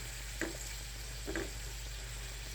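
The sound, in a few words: spices with chopped tomato frying in a pan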